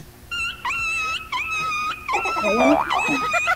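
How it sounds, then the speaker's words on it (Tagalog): A dog close by gives loud, drawn-out whining wails in several long bursts, broken by rougher growling and whimpering, with a voice briefly mixing in underneath near the end. "marami kayong aso"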